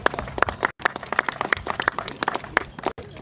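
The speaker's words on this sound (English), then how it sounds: "Let's give him a hand clap of encouragement." An audience clapping in encouragement at a gathering about a trial, a brisk patter of many hands at close range, steady throughout with two very brief gaps.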